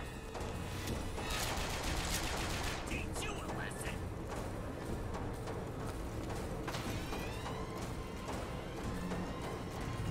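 Bursts of gunfire in the Bioshock Infinite first-person shooter, several sharp shots and volleys ringing out over constant loud game noise, with a voice talking at points.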